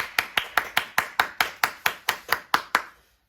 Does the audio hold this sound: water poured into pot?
no